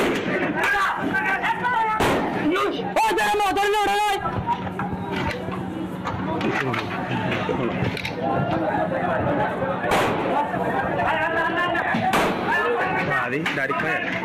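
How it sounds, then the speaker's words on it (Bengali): Gunfire in recorded news footage of a reported attack at Cox's Bazar air base: a fast volley of sharp shots, then scattered loud bangs and cracks among voices and background noise. "আমি আরো একবার সেই গুলির আওয়াজ"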